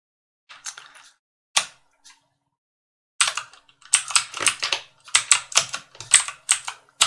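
Computer keyboard typing while renaming a part in CAD modelling software, heard as a few scattered keystrokes followed by a dense, rapid run of close, crisp clicks with no talking.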